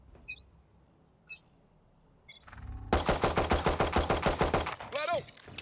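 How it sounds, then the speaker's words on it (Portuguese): Rapid automatic gunfire in the Valorant video game, a fast even burst of about a dozen sharp shots after a few faint clicks and ability sounds, followed by a whooshing effect. "Vou dar vários tiros aqui"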